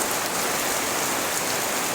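Heavy late-season rain pours over an outdoor grape vineyard, a dense, steady hiss of drops striking leaves and ground with no pauses and no voices.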